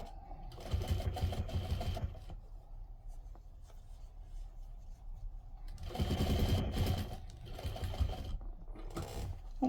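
A domestic sewing machine stitches through two layers of batting and two layers of fabric for a quilted bowl cozy. Close, rapid whirring comes in three bursts separated by quieter pauses, with no talking.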